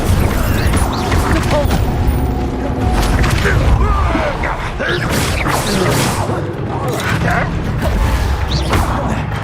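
Fire spell cast in Hogwarts Legacy during a loud magical battle, a dense roar of whooshes, crashes and booms running continuously at close range with game voices mixed in.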